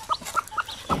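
Native Zampen-type cross chickens cluck on a farm in four or five short, close calls spread over a second, with no talk.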